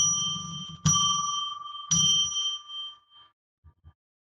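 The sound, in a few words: bell rung three times to open a session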